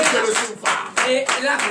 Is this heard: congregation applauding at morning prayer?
yes